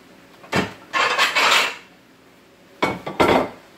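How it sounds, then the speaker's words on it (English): Plates and dishes clatter and scrape as one is grabbed from a stack in a kitchen, in two short clusters of close, bright ceramic clinks separated by a pause. "I'll grab a plate."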